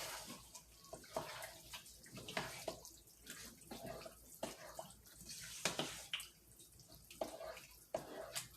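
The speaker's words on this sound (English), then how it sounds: "we're going to add a little water to this" Water splashes and trickles into a cooking pot in a kitchen, a soft, continuous pour with small bubbling bursts, fairly faint and with no one talking.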